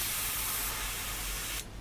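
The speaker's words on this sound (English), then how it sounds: "I'll then spray what remnants are left in the gun" A paint spray gun on a Tamiya 1/12 Honda CB750F model build blows out leftover paint in a continuous close, loud hiss that cuts off abruptly near the end.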